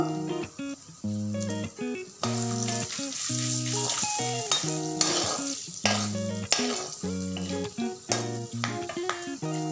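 Whole cloves frying in hot oil on a lowered gas flame, a steady broadband sizzle with stirring scrapes, heard under a melodic background tune.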